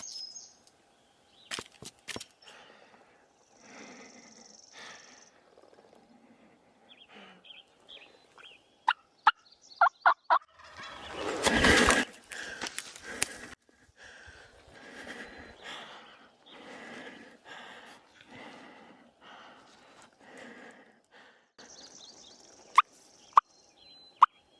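A wild turkey gobbles in an Oregon mountain meadow, a few rattling gobbles over soft rustling and quiet breathing nearby, with one loud close burst in the middle and sharp clicks scattered throughout.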